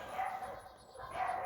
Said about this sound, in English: you might hear my neighbors' dogs in the background